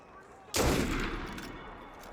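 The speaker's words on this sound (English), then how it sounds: "Why don't you just keep shooting me?" A sudden close burst of gunfire in Assassin's Creed Unity, sharp and loud at first, then trailing off in rough, decaying rumble for over a second.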